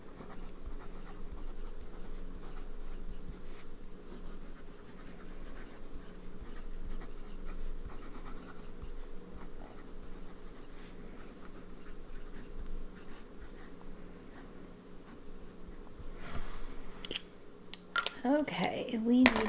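A fountain pen nib inked with KWZ Hawaii Blue scratches steadily across paper for a long stretch, close and soft, with a faint background hum and a few louder handling noises near the end.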